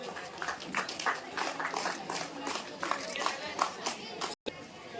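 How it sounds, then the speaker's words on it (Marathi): An audience claps at a school prize ceremony in a hall, with steady fast applause that carries on for several seconds while a speaker talks over it on a microphone. "टाळ्या वाजवायच्या."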